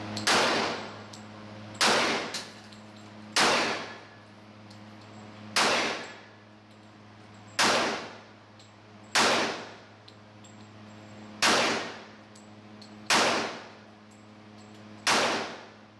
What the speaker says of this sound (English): Let's see how the Springfield XDM feels. Recoil.